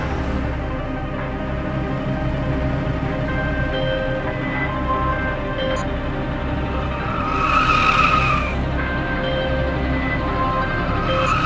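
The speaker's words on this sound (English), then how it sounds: "Fredrich dips in and out of alleyways and streets, accelerating away from the strange car" A car accelerates hard and steadily during a chase through alleys and streets, its engine droning continuously. A brief tire skid squeals near the end, with no voices.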